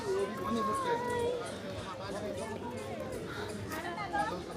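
A thick babble of many people talking at once at Chaurasta in Darjeeling, steady and close around the listener, with individual voices rising briefly out of the crowd noise.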